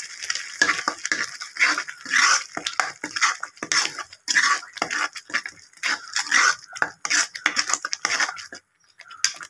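Peas and potato masala being stirred in a pan at a roadside masala pori stall, with a spatula scraping and clanking against the metal in quick, uneven bursts.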